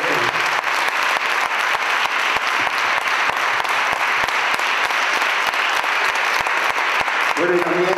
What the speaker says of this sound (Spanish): dan un fuerte aplauso a ellos, que se lo merecen